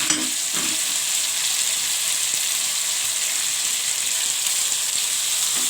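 Taro and chicken pieces sizzle loudly and continuously in hot onion masala for arvi chicken salan, with a steady dense frying hiss and faint stirring throughout, no talk.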